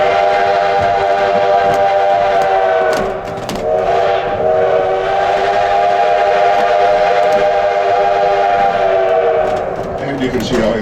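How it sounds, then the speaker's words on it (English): A loud, sustained steam locomotive whistle blows a crossing signal in long blasts with a brief pause between, the sound close and dominating, at a tourist railroad in Keystone, South Dakota. "The whistle you just heard is the first crossing signal in this direction."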